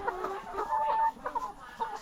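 Backyard chickens cluck in a steady run of short calls with a longer drawn note in the middle, close and moderately loud with no talk over them.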